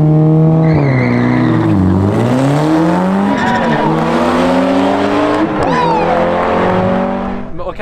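Two 2JZ-engined Toyota Supras driven hard together, loud close engines revving with sweeping pitch rises and falls, gear changes and overlapping drones, continuous throughout.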